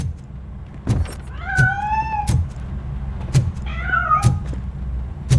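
A cat meows twice in Robocop: Rogue City, long rising-and-falling cries separated by a pause, with sharp knocking clicks around them.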